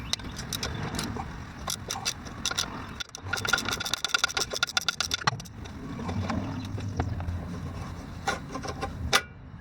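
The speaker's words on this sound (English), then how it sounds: "I think the first thing I'm going to do is loosen up the 14mm brake line bracket here" A 14mm brake line bracket being loosened on a Scion xB/xA during a brake line and clutch slave cylinder job, heard as close bursts of rapid metallic tool clicks and rubbing scrapes, busiest in the middle, with no talk.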